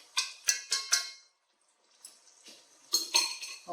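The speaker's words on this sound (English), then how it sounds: "Have you ever used the chopsticks for cooking? I found out that it's quite handy," Stainless steel chopsticks clinking against a pan or bowl during cooking, a quick run of four bright taps, a short pause, then softer and denser tapping, close and fairly quiet.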